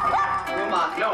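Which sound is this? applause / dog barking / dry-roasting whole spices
dog barking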